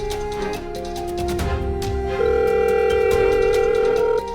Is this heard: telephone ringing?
yes